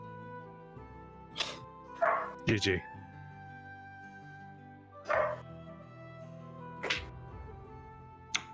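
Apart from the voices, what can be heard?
dogs barking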